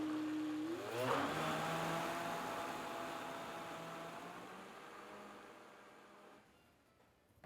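A kitchen blender whirs through a creamy mixture with milk during a healthy holiday cooking class, its motor rising in pitch as it spins up, then holding a steady loud drone before fading near the end.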